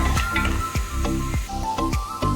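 Onions and tomatoes sautéing with salt in a pan for mutton kurma, a close sizzle broken by several quick spatula strokes and soft squishy thuds in an irregular rhythm, with no voices.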